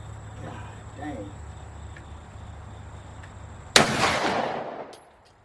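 A single loud, sharp blast from an AK-style shotgun firing buckshot outdoors toward a brick wall, followed by a decaying echo, after a quiet stretch with faint distant background sound.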